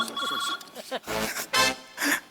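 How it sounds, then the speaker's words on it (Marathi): A mobile phone rings during a Marathi stage comedy sketch, a tonal ringtone opening the moment and then sounding in several loud bursts between spoken lines. "ओहो माझा फोन आलेला आहे"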